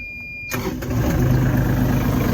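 A Kubota KX91-3 mini excavator's small diesel engine cranks and catches after a brief electronic beep, then settles into a loud, steady idle rumble.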